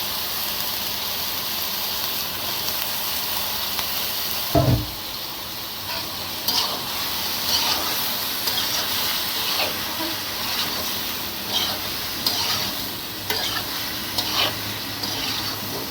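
Ridge gourd fries in a pan with a steady sizzling hiss, punctuated by a sharp clatter near the start and scattered scraping stirs throughout.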